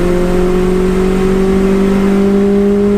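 Fully built 530bhp Subaru WRX engine held at high revs on a track, a loud, steady droning whine with strong sustained tones and no talking.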